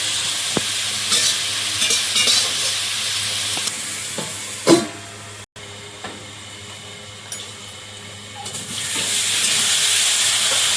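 Potatoes frying in a pan, a close, steady sizzle and hiss with occasional stirring scrapes and knocks, swelling louder near the end.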